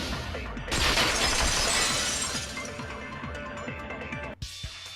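A vase shatters in Danganronpa 2, a sudden loud crash of breaking ceramic followed by a long spray of tinkling shards that scatter and fade over several seconds.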